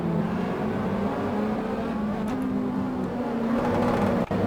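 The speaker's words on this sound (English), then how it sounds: "Very loud curbs." Ferrari 458 in the Assetto Corsa racing game droning steadily as it runs over loud kerbs, a constant engine whir with a brief dip near the end.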